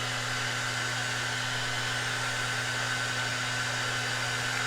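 A hair dryer blows hot air over sticker glue on a book cover, a steady close whirring roar with a low motor hum that holds constant from start to finish, no talking.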